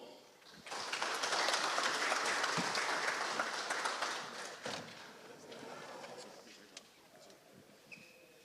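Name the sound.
audience applause for the Gates County Red Barons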